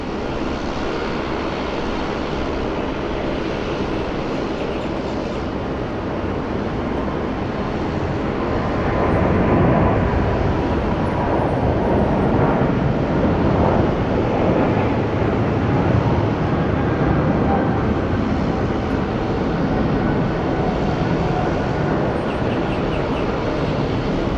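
A Qantas airliner lands on runway 34 left, a loud, steady broadband jet roar that swells near the middle and holds without a break, with no voices.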